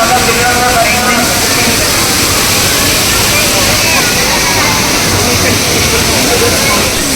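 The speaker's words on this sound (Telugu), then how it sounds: "ఇది ఇక్కడ వాటర్ ఫాల్ అది ఇది అదంతా సెటప్ చేసి పెట్టినారనమాట" An artificial waterfall at the Summer Utsav Mela Kashmir set pours in a loud, continuous, close hiss of falling water, with a voice talking over it.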